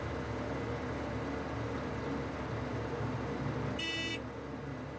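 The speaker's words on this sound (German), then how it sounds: "Boah, wow, geile Hupe!" A car horn in DayZ gives one short, clear honk near the end, over the constant low rumble of the vehicle's engine while it drives.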